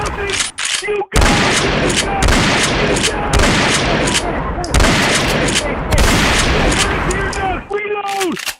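Gunfire erupts just after a trigger pull, with a dense, loud barrage of rapid shots rolling on for several seconds and a few brief pauses between them. Shouting voices are heard briefly at the start and end.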